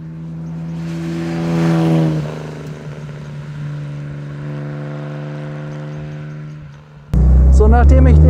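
A 1954 Jaguar XK 120 OTS sports car on a rally drive, its engine droning steadily and swelling as it revs, then a sudden louder burst of wind and road noise near the end.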